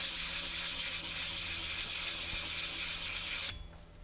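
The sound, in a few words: sanding gouge marks out of an old brass door handle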